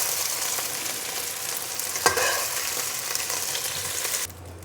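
Beef pieces fry in hot oil left from browning onion, giving a steady, close sizzle with a brief stirring clatter midway before it cuts off abruptly.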